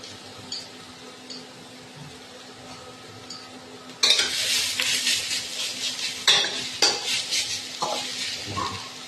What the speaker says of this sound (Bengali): এর মধ্যে আগে থেকে সিদ্ধ করে রাখা পেঁপেগুলি দিয়ে একটু হালকা করে ভেজে নিতে হবে।